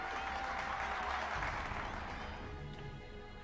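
Applause from a crowd in the mecha strategy game Super Robot Wars 30, a dense sustained clapping that holds steady and fades slightly toward the end, heard alone without talk.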